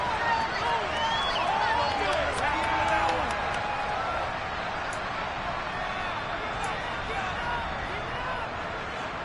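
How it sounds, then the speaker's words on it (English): A football stadium crowd shouts and cheers in a sustained loud roar while a replay is watched, with scattered whoops and voices rising through the dense noise. "Plenty of shouts from this crowd as they watch the replay."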